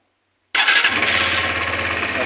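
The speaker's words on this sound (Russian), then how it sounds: "Сейчас первый запуск двигателя." A 2025 UM Commando Classic Renegade 125 motorcycle engine starts on its first cold start after servicing, firing up abruptly after silence and settling into a loud, close, steady idle with a rhythmic low thrum, no talking.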